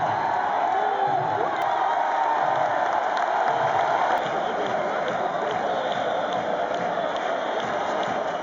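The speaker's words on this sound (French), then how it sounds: "la foule hurle, chante, bat des mains" A large festival crowd at the Saint John horse festival in Menorca shouts, sings and claps in a continuous loud roar of mingled voices and applause, with some speech blended in.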